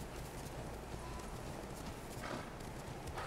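Horse galloping in the video game Ghost of Tsushima, with steady rapid hoofbeats running continuously and close over a dense noisy background throughout.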